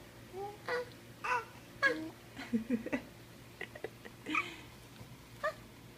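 A two-month-old baby babbles and squeals in a string of short, high cooing bursts and little shrieks, close by in a quiet room with pauses between the sounds.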